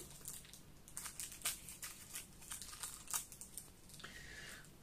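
Trading card box packaging is sliced open, giving a run of close, crisp cutting and crinkling noises with sharp plastic snaps and a brief higher scrape near the end, with no speech.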